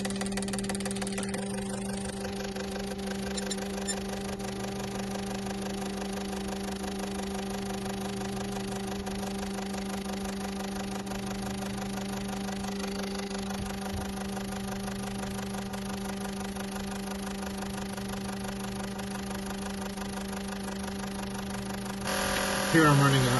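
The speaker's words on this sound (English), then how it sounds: "I can bump the pressure up and try and force the fluid through here, cleaning them up" A fuel injector cleaning machine forces fluid through injectors under raised pressure, giving a steady, continuous mechanical hum and buzz with a constant tone throughout, close by, with a slight rise in level at the very end.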